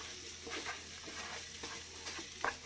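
Paneer butter masala being sautéed in a pan, a quiet continuous sizzle with rhythmic scraping stirs of a spoon, no talk.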